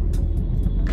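Car moving through traffic in Mohali, a loud, close engine rumble from inside the vehicle with brief hissy bursts of passing road noise, no talking.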